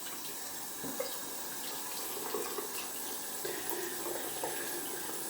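Water runs steadily from a tap as a shaving soap tub is rinsed off at a sink, a continuous close hiss and splash with small gurgles and no voices.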